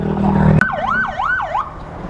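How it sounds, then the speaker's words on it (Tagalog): An ambulance siren wails at a motorcycle accident scene, a loud nearby electronic yelp sweeping up and down in three regular cycles after a brief burst of noise. "Ayan na, andyan na yung ambulansya."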